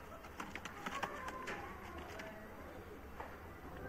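Pigeons offered for sale at a market give soft cooing and some fluttering amid faint background bustle, while someone talks throughout.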